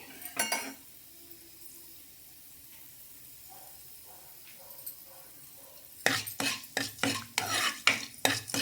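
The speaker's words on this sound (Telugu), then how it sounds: "బ్రౌన్ కలర్ వచ్చే వరకు వేయించుకోవాలండి మెంతుల్ని." Fenugreek seeds and onion frying in a pan, a soft background sizzle with a short scrape at the start and a burst of rhythmic metal stirring and scraping near the end.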